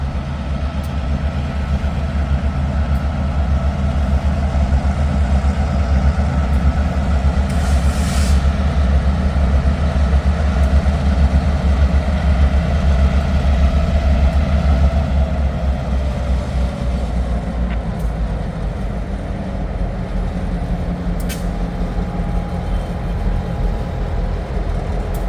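A pair of GP38-2 diesel locomotives rumble close by, the engines holding a deep, steady, loud drone with a sustained rev for the whole stretch, and a few faint metallic squeals over it.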